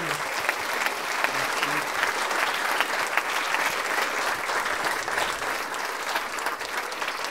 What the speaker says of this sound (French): Maintenant, on peut applaudir Jojo, s'il vous plaît, quand même.